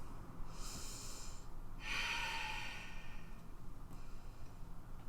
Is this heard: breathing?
yes